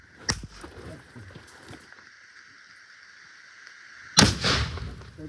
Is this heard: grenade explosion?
yes